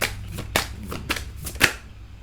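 Tarot cards are handled and drawn from a deck, giving a close series of crisp snaps and riffling flicks, about six distinct bursts in quick, uneven succession before tapering off.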